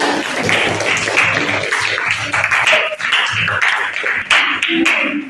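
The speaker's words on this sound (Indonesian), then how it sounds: "tepuk tangan untuk kelompoknya" A group of fifth-grade children clapping together in a classroom, a dense, continuous patter, with young voices chattering underneath.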